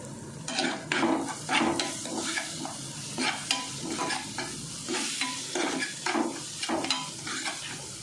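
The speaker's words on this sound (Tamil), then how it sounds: "இப்போ நல்லா ஃப்ரை பண்ணி விட்டுக்கலாம்" Masala with salt frying in a pan for an egg masala, with steady sizzling and repeated scraping stirs of a spatula against the pan, fairly close and continuous with no talking.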